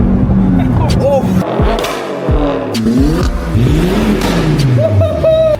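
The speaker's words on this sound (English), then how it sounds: "just how savage is a backbox delete going to be on a Focus RS?" A Ford Focus RS with its rear muffler deleted revs hard, its exhaust roaring loud and close in repeated rising and falling bursts, with a voice talking over it.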